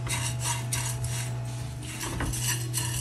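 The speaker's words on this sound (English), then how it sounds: "So just keep stirring it again" Dried kasuri methi stirred as it roasts in a pan, with repeated scraping and clinking of a utensil against metal over a steady low hum.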